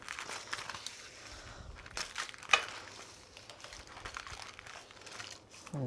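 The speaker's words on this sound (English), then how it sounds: "I like to curl the foil up as I go, that way it doesn't make too big of a mess." Aluminum foil is peeled off breaded salmon and crumpled into a ball as it comes away. Close, soft crinkling and crushing runs throughout, with one sharper crackle near the middle and someone speaking quietly over it.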